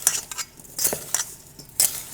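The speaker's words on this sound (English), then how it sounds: "Make sure all the strawberries and everything is incorporated." A spoon stirs strawberry rhubarb pie filling thickened with flour in a bowl, with close, loud scraping strokes and clinks in a steady rhythm.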